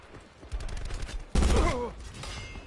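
A loud, close burst of gunfire in the video game Call of Duty Black Ops 4, preceded by lighter shots, with a voice talking over the burst.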